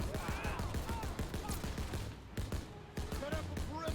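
Rapid bursts from an M1919 machine gun in the World War II shooter Call of Duty WW2, a dense rattling stream of shots over ongoing battle noise with a voice talking.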